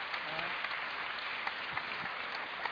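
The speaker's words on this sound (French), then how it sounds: "je vous demande de l'applaudir encore plus généreusement" A seated audience at a literary talk applauds Jean-François Kahn, a fairly faint, continuous patter of many hands clapping from across the room without pause.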